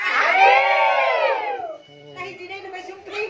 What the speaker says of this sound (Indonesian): Semua ikutan bareng nih supaya kedengeran kesininya rame teriakan.